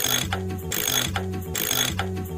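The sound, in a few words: SpongeBob wrench ratchet sound effect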